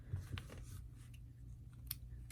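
Small scissors snipping sewing thread after a stitch through fabric, giving a few quiet, brief clicks close by in an otherwise hushed room.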